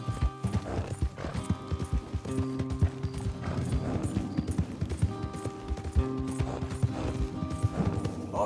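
Horses clip-clop steadily across ground in Red Dead Redemption 2, several hooves overlapping in a busy rhythm beneath a game music score and occasional background noises.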